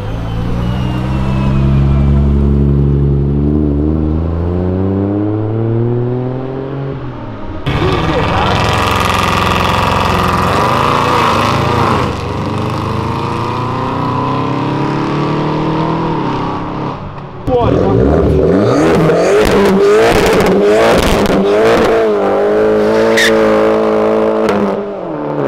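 A BMW loudly accelerates and revs at a car show exit, engine pitch climbing and falling in long sweeps with a harsher burst of revving near the end, while voices talk over the noise.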